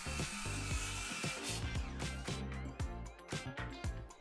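A power saw cuts bevelled 45-degree ends on 2x4 lumber, a loud close whine broken by repeated rhythmic bursts and pauses as the blade bites through the wood.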